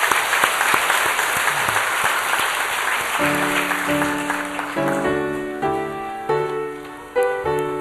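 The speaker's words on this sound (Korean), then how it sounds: "우리 함께 서로 박수로 환영하겠습니다" A church congregation claps in welcome during a Sunday service, dense steady applause that carries on as sustained organ or keyboard chords enter partway through and swell beneath the thinning clapping.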